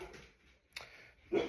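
A dog barks indoors in a few short, faint yips and barks spread across a quiet moment, with no talking.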